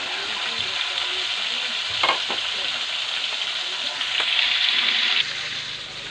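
Pork and chayote stew bubbling in a pot on a stove, a steady loud sizzling simmer with a brief stir or clatter midway and a slight rise near the end before dropping off.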